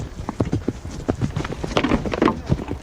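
Horse hooves clip-clopping in a rapid irregular rhythm as a mounted rider charges a medieval shield wall, fairly close and loud over outdoor noise.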